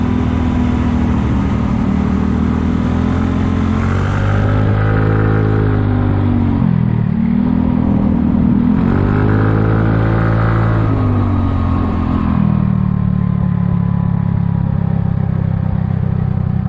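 A Kymco People 250 scooter with exhaust leaks patched using JB Weld high-heat epoxy drones steadily while being ridden, its engine note rising and falling through gentle throttle changes.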